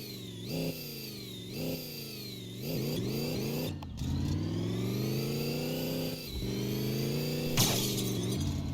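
A car revs and accelerates repeatedly in the video game My Garage, its engine rising and dropping through several gear changes, with a sharp crunching crash near the middle and another impact later.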